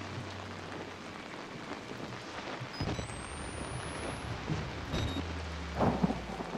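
Thunderstorm ambience in the horror video game Outlast: steady heavy rain hiss with low rolling thunder rumbles, swelling into a louder thunder crack near the end, with no talking.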